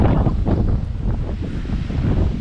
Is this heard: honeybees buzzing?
no